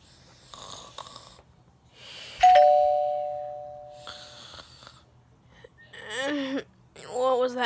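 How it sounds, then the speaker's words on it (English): A doorbell chimes once at night in a home, a clear two-tone ding that rings out and decays over a couple of seconds, framed by snoring-like breathing and voice noises before and after. "Is that the doorbell?"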